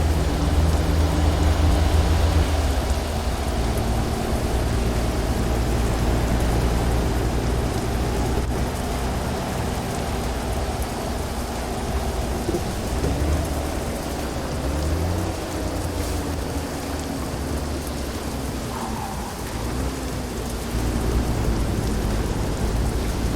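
Rain and thunderstorm in a truck driving video game, with steady heavy rain hiss and low rolling thunder rumbles under an engine drone throughout, moderately loud and without talk.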